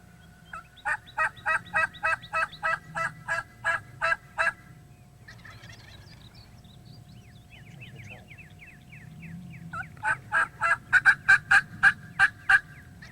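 Wild turkey tom gobbling in spring woods during a hunt, a long run of loud rapid gobble bursts, a quieter stretch of softer calls, then another strong burst of gobbles close by.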